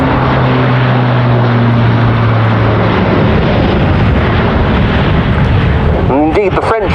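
An Airbus A400M Atlas military transport aircraft at the RIAT airshow roars past loud and close, its propeller drone holding steady tones before sweeping into a rising and falling whine near the end.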